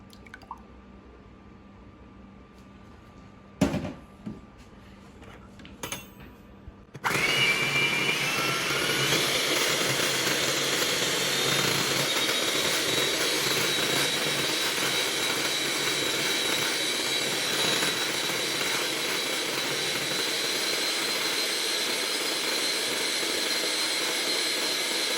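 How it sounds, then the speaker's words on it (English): Electric blender or mixer beating egg whites to soft peaks for a no-bake cheesecake, a steady loud whirring roar that starts abruptly after a few quiet clicks and knocks, then runs continuously without pause. "Now we're just gonna beat our egg whites to a soft peak."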